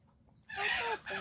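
Chickens cluck and squawk softly in a brief burst over quiet background noise.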